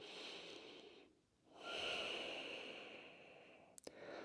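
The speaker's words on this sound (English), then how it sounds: "One more full breath here." One slow, full breath during a yoga stretch, drawn in and let out softly and close, with a short pause midway and a faint tap near the end.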